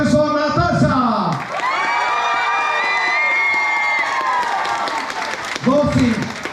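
At a beauty pageant in a hotel club in Alanya, the crowd cheers, whoops and claps for a contestant, with music ringing through the noise.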